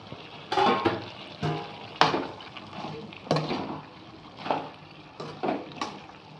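Tomatoes go into beef curry frying in a pan. Repeated bursts of sizzling and scraping come roughly every second, moderately quiet, between brief lulls, with no talk.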